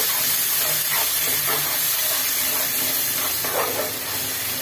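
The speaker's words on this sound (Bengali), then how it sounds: "এটা আমি পেস্ট করে নিচ্ছি, তেলে দিয়ে একটু ভাজা ভাজা করে নেব" Paste of onion, ginger, garlic and tomato frying in hot oil for a fish dish, a loud, continuous steamy hiss that holds steady throughout.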